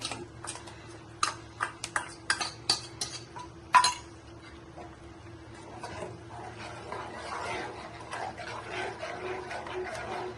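A spoon clinks and scrapes against a pot while masala is stirred into Nellore-style fish curry, sharp metallic taps at first, then a softer continuous scraping and stirring close by, with no talking.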